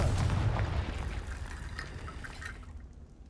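A Confringo explosive spell cast in Hogwarts Legacy hits with a loud, close blast, then a crackling, fiery tail fades away over about three seconds.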